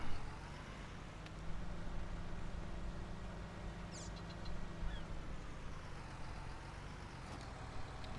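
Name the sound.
tractor and seeder running in the video game Farming Simulator 19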